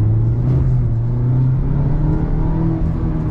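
A 2022 Mazda MX-5 Miata engine revs steadily through a heel-and-toe downshift, a loud, continuous close-up drone with a strong low rumble and mild rise and fall in pitch, no talking.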